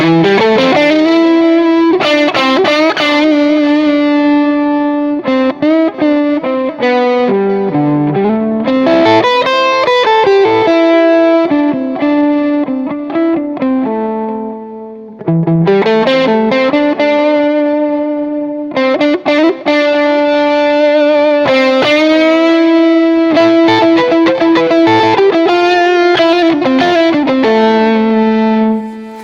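A loud distorted electric guitar plays a lead melody with sustained bent notes and quick runs, thick with effects and reverb, unaccompanied by voices.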